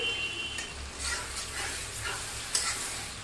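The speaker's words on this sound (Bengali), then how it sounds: "এখন ততক্ষণে টমেটোটাকে আমি একটু ভালো করে ভেজে নিচ্ছি।" Tomatoes frying in oil in a pan for a sea fish curry, giving a steady soft sizzle with light scraping from stirring and one brief clink.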